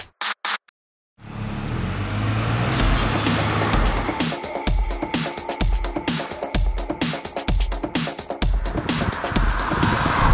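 A Hyundai i40 with a four-cylinder engine drives on the road. A door thump opens the sound, then a steady engine and tyre rumble continues with rhythmic pulsing, heard from inside the car without talk.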